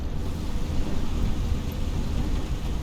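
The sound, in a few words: thunderstorm rain in video game Microsoft Flight Simulator 2020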